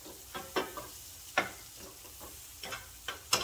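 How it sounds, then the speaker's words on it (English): Garlic butter sauce with paprika and green onions sautéing for garlic butter fish, heard as soft close sizzle broken by a string of sharp spoon clicks and scrapes against the pan. "Saute that for a little bit, guys."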